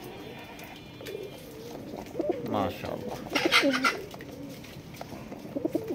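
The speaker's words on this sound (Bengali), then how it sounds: "দেখেন অনেক সুন্দর একজোড়া আপনার গলা কবুতর ডাকতেছে" A pair of neck pigeons offered for sale coo in soft, repeated bursts close by, overlapping a man's brief spoken remark and light background noise.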